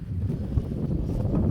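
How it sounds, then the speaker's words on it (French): Strong wind blowing outdoors in a vegetable garden during pepper planting, heard as low, gusty rumbling buffeting against the microphone, uneven and continuous with no voices. "il y a beaucoup de vent"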